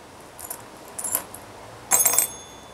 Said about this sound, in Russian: Я тоже сейчас возьму мою монетку из этого.